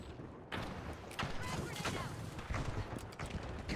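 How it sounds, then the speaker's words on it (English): Grenades exploding in midair in the video game The Finals, a rapid series of sharp, loud blasts and crackling bursts, several close together, with a voice speaking over the explosions. "The grenades blow up in midair."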